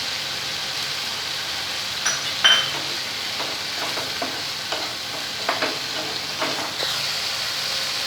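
Green chillies sizzling and frying in hot oil for a potato and pointed gourd curry, a steady crackling hiss with occasional louder pops and stirring sounds, close up and with no talk.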